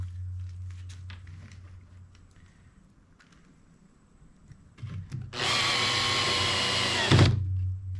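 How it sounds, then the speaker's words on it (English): A power drill drives screws into a wooden bottom plate for a homemade cable caddy, a steady loud whine lasting about two seconds, close up, with a brief rise near the end, preceded by quieter handling and shuffling. "I need to put these screws in."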